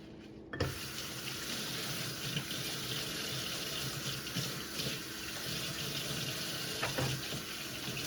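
Tap water runs steadily into a kitchen sink as a food item is rinsed, a continuous close hiss with a few soft splashes and clunks, no talking.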